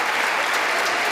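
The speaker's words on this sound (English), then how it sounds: "You can applaud that." Members of the House of Representatives applaud, a thick, continuous burst of clapping from a large crowd that stays loud and even throughout, with no speech over it.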